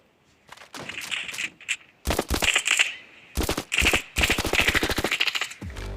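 Automatic rifle fire in a first-person shooter, rattling out in loud close bursts of rapid shots separated by short pauses, with no talking.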